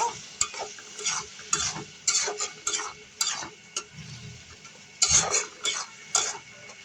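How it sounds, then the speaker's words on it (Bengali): Dried fish with chili and salt is stir-fried in a pan, with repeated scraping strokes of a spatula over a soft, continuous sizzle, fairly close. "আমি এটাকে ভালো করে কষিয়ে নিব।"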